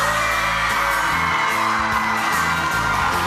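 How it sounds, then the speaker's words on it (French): A crowd of young girls screams and shrieks continuously at a lively outdoor event, loud and close, with bangs and thumps underneath. "On n'a jamais vu autant de jeunes filles crier."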